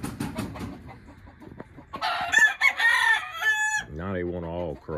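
Roosters crow loudly close by in a backyard flock as evening approaches, after some scattered clucking and rustling, with one long crow and a second rooster answering.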